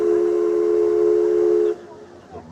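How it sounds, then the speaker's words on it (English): A Disneyland steam train whistle blows loud and steady for nearly two seconds, then cuts off, leaving crowd noise. "If you couldn't hear it, I apologize with the whistle blowing"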